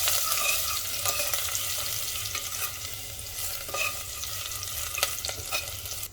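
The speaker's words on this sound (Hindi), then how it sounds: "लहसुन को भी भून लेंगे।" Garlic and mustard seeds crackle and sizzle in hot oil in a pan as tempering for dal khichdi, a dense steady frying hiss with scattered sharp pops and stirring scrapes, close and without talk.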